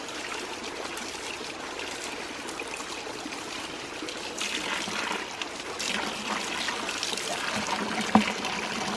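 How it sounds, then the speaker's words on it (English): Water from a ram pump pipe trickles steadily into a bucket outdoors, a continuous close splashing stream that grows a little louder partway through, with one brief knock near the end. "To get this water into the bucket, I've got this right here."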